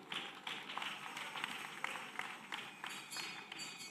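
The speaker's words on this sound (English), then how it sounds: "Applaudissons pour le Seigneur." A church congregation applauding, a steady rhythmic clapping heard at a distance and fairly faint, with a few voices mixed in.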